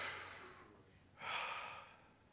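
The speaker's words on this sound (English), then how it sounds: "Apprehensive breathing." Apprehensive breathing during a calculus lesson: two soft, airy breaths, an exhale then a longer inhale-like rush, quiet and close, with no speech.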